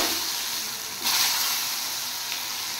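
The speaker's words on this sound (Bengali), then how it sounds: "এবার আমি কাঁকরোল ভেজে নেব" Pointed gourd (kakrol) frying in a pan, giving a steady, close hiss of sizzling oil that swells briefly partway through and then continues evenly, with no talking.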